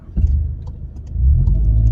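A Skoda Octavia VRS wagon engine fires up close by with a loud low rumble, then swells into a deeper rev after a second, holding a heavy steady drone with no talking.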